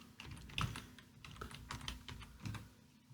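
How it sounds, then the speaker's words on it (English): A name is typed on a computer keyboard into an Excel lookup: a quick, close run of light key clicks with an uneven rhythm and a few heavier taps, quiet, with no talking. "I want to find, for example, Daruka Gajali, I just type that name"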